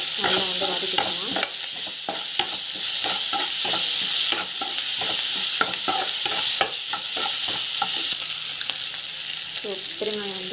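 Vegetables sautéing with salt in a hot pan, a dense sustained sizzle broken by frequent rhythmic scrapes and taps of a spatula stirring, close and loud throughout.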